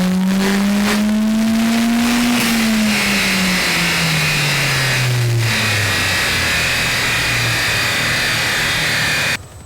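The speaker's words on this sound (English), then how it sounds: "now we can run the car" A Ford Transit Courier tuned past 300 hp runs on a dyno, its engine holding a steady loud drone, then pitch sweeping down through a long pull before cutting off abruptly at the end.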